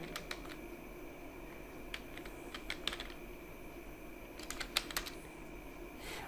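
Computer keyboard typing while writing a Python input program, scattered bursts of light key clicks, close but faint over a quiet room hum.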